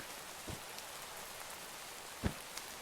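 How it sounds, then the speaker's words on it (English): Steady rain falls in the video game Minecraft, a constant soft hiss of drops with a couple of faint thumps, heard alone without talk. "the rain was irritating"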